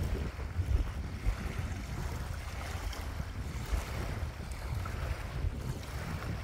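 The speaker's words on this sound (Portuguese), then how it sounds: "O vento tá atrapalhando, mas aí." Wind gusting over a lagoon in Bahia, a steady low buffeting rush with occasional stronger gusts against the microphone, no voices.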